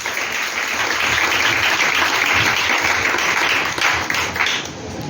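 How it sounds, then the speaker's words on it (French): A church congregation applauds during a sermon, a loud, dense wash of clapping that holds steady for several seconds before thinning slightly near the end. "Acclame ce bonus."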